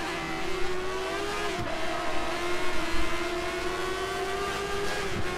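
A Formula 1 racing car in a video game holds a high, steady engine whine through a gear change, close and loud with no talk.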